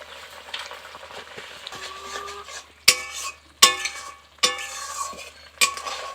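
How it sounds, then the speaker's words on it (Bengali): A fish curry cooks in a pan with a soft sizzling bubble underneath, broken by several sharp metal spoon clinks against the pan at uneven intervals, close by. "তরকারিটা একটু ফুটবে"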